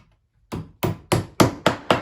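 Six sharp hammer blows on nails going into a wooden birdhouse, evenly spaced and loud and close, after a brief quiet start.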